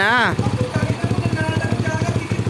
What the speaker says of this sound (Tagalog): tahimik na yung makina